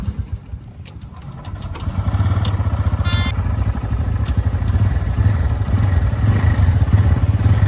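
Honda Hornet 125 and TVS Raider 125 motorcycles at the start of a drag race, a brief clatter followed by a steady close-up idling engine thrum that continues throughout.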